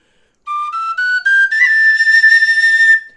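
Tin whistle playing: a clear whistle climbs through a few short notes, then holds a bright, high A with slight breathy wavering, loud and close.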